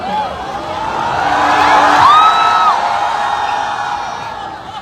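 A crowd at a Raghu Dakat promotional event in Madhyamgram's Star Mall cheers and whoops loudly. The cheering swells to a peak and then slowly fades, with high, drawn-out shouts ringing above the general roar.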